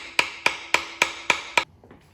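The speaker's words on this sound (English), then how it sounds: "Now we'll fully seat it using a socket of the same diameter and just lightly tap it." Six light, evenly spaced metallic taps as a socket seats a new transmission seal during a Mustang transmission rebuild, each a sharp close tap with short ring, then quiet.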